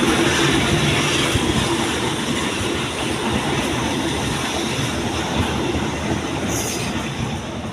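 A train rolls past on a railway track at a street crossing, a loud, continuous rumble of wheels and cars with rhythmic clatter and a brief squeal near the end.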